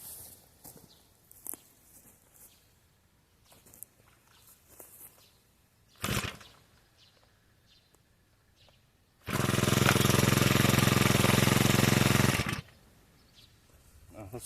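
A four-stroke brush cutter starts and its engine holds a steady roar on cruise control for about three seconds before cutting off, following scattered quiet handling clicks and knocks.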